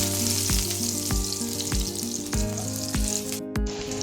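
Ginger frying in a pan before crabs go in: a loud, steady, close sizzle with regular knocks of stirring about every half second, and no voices.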